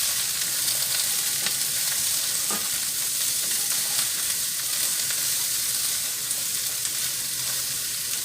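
Apples frying in a pan, a loud, continuous close-up sizzle and crackle with a steady hiss and occasional pops, with no voices.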